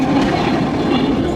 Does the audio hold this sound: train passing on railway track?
yes